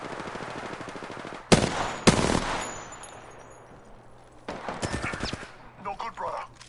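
Apex Legends gunfire: two loud, close single shots crack early on, and a rapid burst of automatic fire follows a few seconds later. Softer game sounds fill the gaps, and a voice speaks in places.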